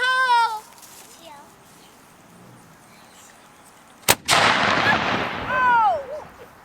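A cannon fires at a historical camp demonstration, one sharp, loud blast followed by a rumbling roar and crowd reaction; voices and a child are heard before and after.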